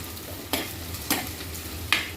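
Chopped onion, green chilli and ginger are stirred in a pan over a low sizzle, with three distinct spatula scrapes spaced about half a second apart, close by and without talking.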